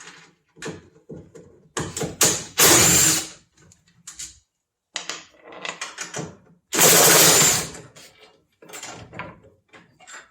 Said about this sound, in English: So we'll go ahead and remove those bolts.